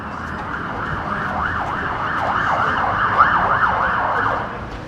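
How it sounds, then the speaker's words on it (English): Emergency vehicle sirens wail through Fairfield city streets near a local train station, with a continuous rising-and-falling tone held steady and fairly loud over low traffic rumble for the whole stretch. "You hear the sirens going off"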